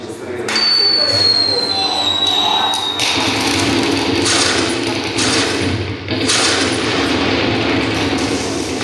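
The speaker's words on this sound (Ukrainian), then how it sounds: "Музика та звуки стрілянини як антураж." Gunfire sound effects played as background during military medic training, a steady barrage of loud bursts and thuds mixed with music, with voices talking throughout.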